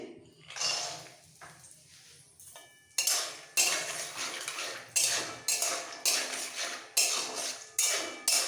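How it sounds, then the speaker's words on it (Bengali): Raw peanuts frying in a pan for poha are stirred with a metal spatula, making a quick run of rhythmic scrapes and clatters that grow louder and regular after a few quieter strokes. "এবার এর মধ্যে বাদামটা ভেজে নেব সব বাদামটা দিয়ে দিচ্ছি"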